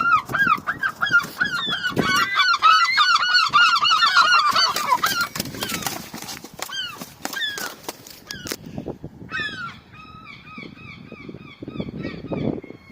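Aggressive goose attacking up close, giving loud, rapid, repeated honks and harsh calls in bursts, with a shorter series of honks near the end.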